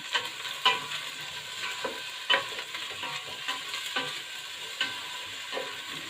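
Shallots and chili frying in oil in a pot, with a steady sizzle broken by repeated scraping stirs of a utensil at close range.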